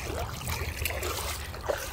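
Water trickles and flows along a canal in a sunlit forest, a steady close babble with no talking.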